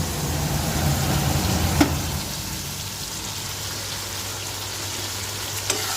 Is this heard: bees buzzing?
no